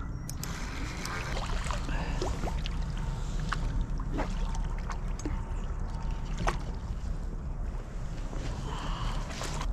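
A boat on a snowy winter river during freezing fishing, with steady broadband wind and water rush filling the scene, occasional knocks and splashes, and no talk.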